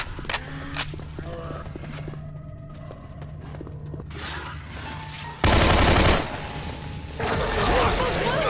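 Gunshots and bullets fired: scattered sharp cracks over a busy background, then a loud burst of noisy blasts near the end, with clattering sounds and speech-like voices mixed in.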